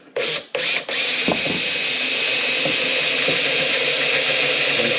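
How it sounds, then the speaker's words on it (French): A power drill bores large holes through material for a quad storage box, a sharp whine that starts and stops twice, then runs steadily and loud at close range. "J'en profite pour faire quelques gros trous pour après pouvoir passer"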